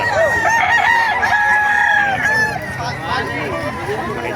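Young chickens at a poultry market in Bocaue, Bulacan crow and cluck loudly and close by, with rooster calls rising over a busy crowd babble and people talking.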